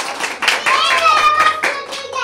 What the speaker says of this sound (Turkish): Belki kocaman alkış yapar mısınız?